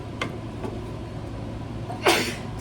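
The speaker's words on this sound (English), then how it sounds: "I think I got that black pepper in my throat. Now I think I need to sneeze." One sharp sneeze after breathing in black pepper bursts out near the end of a quiet stretch, with a couple of faint breathy sounds before it and no talking.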